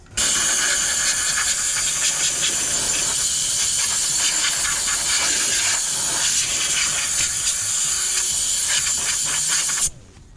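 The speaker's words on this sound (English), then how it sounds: "now get the steamer, make sure I clear it out" A car detailing steamer blows a continuous, loud hiss of steam during mobile interior detailing, running steadily for about ten seconds before cutting off abruptly.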